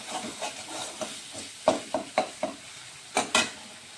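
Tomato masala fries in oil for a Bengali koi fish curry, a soft low sizzle broken by several clinks and scrapes of a spoon against the pan, close and fairly quiet.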